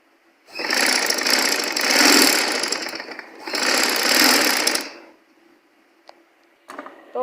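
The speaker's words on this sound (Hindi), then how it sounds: "फोल्ड करके सिलाई लगा ली इस तरीके से।" A sewing machine stitches a folded edge of kameez fabric in two loud bursts of steady whirring, then stops, leaving a few faint clicks and handling noises.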